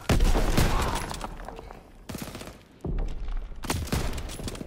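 Gunfire in Call of Duty WWII: dense bursts of rifle and machine-gun fire with heavy thumps, loud and close, broken by short lulls.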